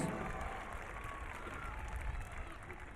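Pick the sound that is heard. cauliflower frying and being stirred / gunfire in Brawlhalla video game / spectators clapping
spectators clapping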